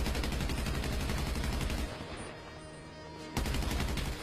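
Rapid automatic gunfire in the video game GTA 5 during a deathmatch in a train-car maze, loud continuous bursts that pause briefly, then resume.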